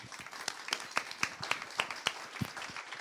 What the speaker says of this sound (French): On va déjà pouvoir t'applaudir avant de passer aux questions.